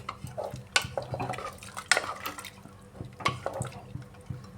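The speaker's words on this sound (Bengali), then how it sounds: "এখানে আমি দুই বাটির মতো জল দিলাম" Water poured into a pot while cooking soybean and rajma ghugni, a soft splashing pour with clinks and knocks of a pot and bowl, close and fairly quiet.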